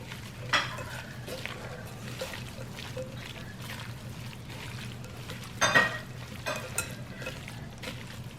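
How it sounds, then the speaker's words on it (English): Kaffir lime leaf and chili pepper get stirred together for Lao chicken larb in a home kitchen, giving soft scattered mixing scrapes and light clinks. Two louder clatters stand out over a steady low hum. "Now go ahead, mix them together first."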